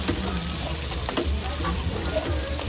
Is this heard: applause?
no